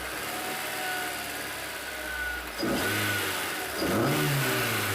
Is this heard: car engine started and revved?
yes